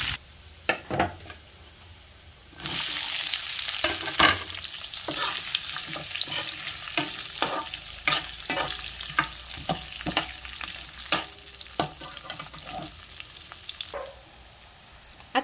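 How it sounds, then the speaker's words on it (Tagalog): Garlic and ginger drop into a pan of oil with cumin seeds, bursting into a loud, steady sizzle. A spatula repeatedly knocks and scrapes against the pan, and the sizzle fades to quiet at the end. "Pag medyo nag-brown na nga guys, lalagay na din natin yung bawang, luya."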